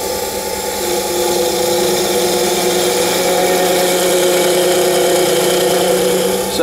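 A wood lathe spins while a turning tool shapes a small dowel pin for a sycamore piece, giving a steady, loud whirring hum with a continuous scraping texture throughout and no voices.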